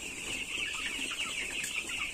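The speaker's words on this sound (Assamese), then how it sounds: "চব একদম পুৰা লোকেল মুৰ্গী আনিছে" Several local free-range chickens at a poultry seller cluck continuously nearby, a busy, overlapping chorus of hen sounds with no talking.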